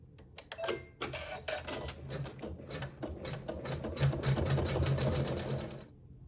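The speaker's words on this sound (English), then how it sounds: "For this step, it'll sew some decorative stitching" An embroidery sewing machine sews decorative stitching on a quilt block, making a rapid, steady mechanical chatter of needle strikes that runs for several seconds and then stops.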